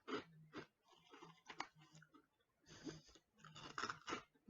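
Close, crisp crunching bites and chewing of a small crunchy taro snack, in irregular bursts with soft breaths between.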